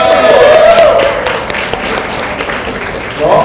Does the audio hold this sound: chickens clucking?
no